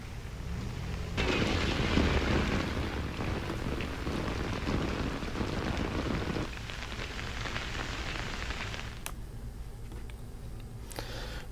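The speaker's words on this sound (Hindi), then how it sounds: "श्रीनगर और वादी कश्मीर के कुछ दूसरे हिस्सों में सुबह से ही बारिश हो रही है।" Steady rain falls in Srinagar, Kashmir, a dense broadband hiss of drops on surfaces that swells loudest early on and then eases to a softer, continuous patter with a few sharp ticks near the end.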